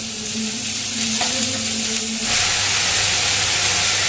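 Onion, tomato and salt frying in a pan, a steady close sizzle that swells into a louder, brighter hiss partway through and keeps going without a break.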